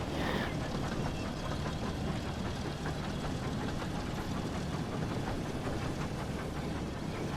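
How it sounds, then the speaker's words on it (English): A steady, dense mechanical rumble with rhythmic chugging, like a train engine working hard, continuous and fairly loud throughout with no talking, from a Thomas and Friends video game. "Listen to the train"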